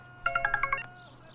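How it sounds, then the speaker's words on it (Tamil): Telephone rings with a rapid burst of bright electronic trilling tones, about six quick pulses, close and clear, then fades out. "Sir phone. அட்டெண்ட் பண்ணுங்க."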